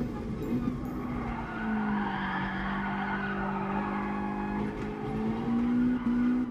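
Tires squeal steadily as a touge-tuned Kyodo AE86 speed-drifts through a corner in Gran Turismo Sport, a long sustained screech over the engine drone, close and continuous with slight pitch shifts.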